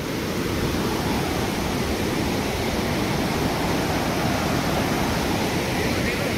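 Kalu waterfall during the monsoon roars with a dense, unbroken rush of falling water, loud and near, filling the whole scene at an even level.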